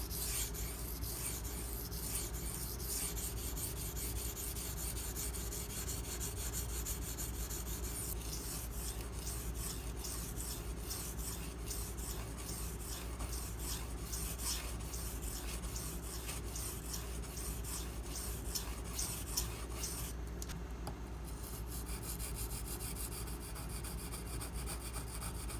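A Benchmade Mini Griptilian knife, its thumb studs removed, is drawn repeatedly across a sharpening stone, producing a continuous close, gritty rasping scrape of strokes throughout with no talking.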